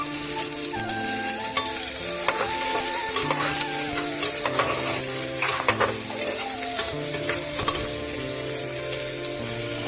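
Vegetables frying in hot oil with cumin in a pressure cooker pot sizzle steadily up close while a utensil scrapes and stirs against the metal in irregular strokes.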